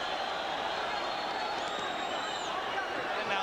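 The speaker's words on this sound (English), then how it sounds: "Crowd rises to its collective feet." Boxing arena crowd at a Felix Trinidad versus Hugo Pineda IBF fight, a dense, steady roar of cheering that swells as the spectators rise, with an announcer talking over it.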